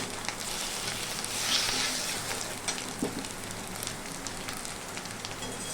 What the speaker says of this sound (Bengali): নারকেল কুচিটা মোটামুটি লাল লাল করে ভাজা হয়ে গেছে